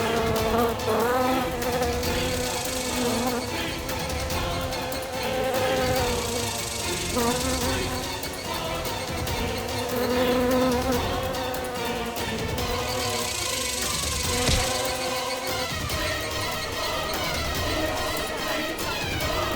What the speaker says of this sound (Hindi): ये मक्खी आपको कुछ नहीं करेगी